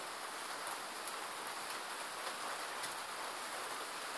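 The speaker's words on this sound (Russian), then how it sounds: "Сейчас идет дождь, уже 7 сентября" Steady rain falls in early September at a rural homestead near Riga, Latvia, a dense even hiss of drops with faint scattered taps, continuous and moderately quiet with no one speaking.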